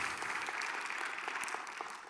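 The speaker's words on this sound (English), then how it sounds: "A little round of applause for them." Audience applause for church staff at a church campaign vision presentation, steady dense clapping from a crowd throughout, fairly loud and continuous with no talk over it.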